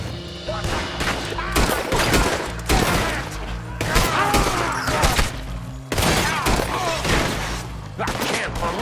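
Rapid bursts of gunfire in a Red Dead Redemption 2 shootout, loud, overlapping volleys of shots with short pauses between clusters over a tense musical bed.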